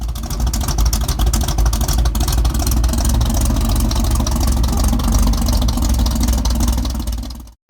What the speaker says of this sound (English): We are going to be installing some of these LS engine exhaust manifold clamps to get rid of that terrible